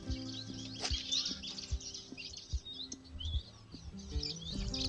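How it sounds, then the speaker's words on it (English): Small birds chirp and tweet in quick, scattered calls outdoors in Utawala, Nairobi, moderately near over a soft background, with a few low thumps and a rising hum toward the end. "these birds still sing"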